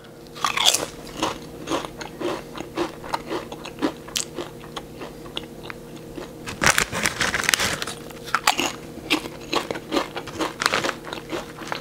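Lay's cheesy garlic bread flavour potato chips are bitten and chewed up close, with repeated sharp crunches and crackly chewing that turn loudest in a dense burst midway.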